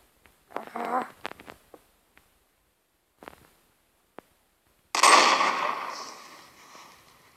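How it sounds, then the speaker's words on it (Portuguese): A few faint clicks and rustles, then a single loud gunshot blast from a weapons mod in Minecraft Pocket Edition that rings out and slowly fades. "vou dar um tiro"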